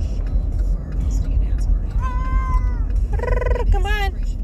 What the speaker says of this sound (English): he's a cool cat.